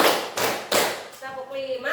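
A group claps in unison four times at an even, steady pace during a counted clapping exercise in a teacher training session. The sharp claps sound fairly close and are followed by a voice speaking.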